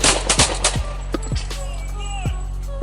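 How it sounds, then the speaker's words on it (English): Police officers fire their service weapons in a rapid burst of sharp, loud gunshots, several cracks in quick succession at the start followed by a few more scattered shots. "2 officers discharged their service weapons, King Williams."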